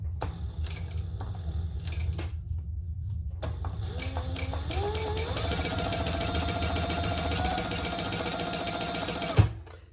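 A sewing machine stitches rows along an adjustable dog collar, a steady close mechanical whir that starts and stops in short bursts before running continuously, with a light clunk at the end.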